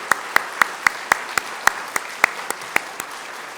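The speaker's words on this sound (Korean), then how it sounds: "박수가 두 손이 악기입니다" A church congregation at a Christmas service claps in unison, giving a crisp, evenly timed run of about a dozen sharp hand claps close by, with no voices over them.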